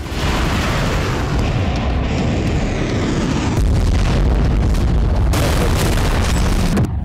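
A loud, rumbling explosion roar from a Ukrainian attack on a Russian airbase, heavy low boom, sustained and dense, swelling again midway before cutting off.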